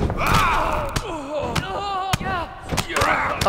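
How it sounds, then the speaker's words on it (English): Powerbomb slam in WWE 2K22, several sharp thuds on the ring mat mixed with crowd noise and a commentator talking throughout, the impacts punching out clearly. "thunderous power bomb"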